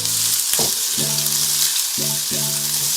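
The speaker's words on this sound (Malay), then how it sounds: "Masukkan bawang merah dulu. Bawang merah, bawang putih." Shallots and garlic frying in oil for kari fried rice, a steady loud sizzle running throughout while a few short tonal beeps sound over it.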